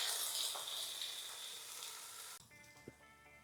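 Frozen peppers and onions sizzle on an RV griddle, a bright, steady frying hiss that cuts off suddenly and leaves quiet background tones with a small clatter.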